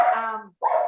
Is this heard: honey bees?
no